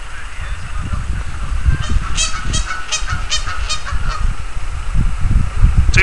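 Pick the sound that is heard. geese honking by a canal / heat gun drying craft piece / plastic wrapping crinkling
geese honking by a canal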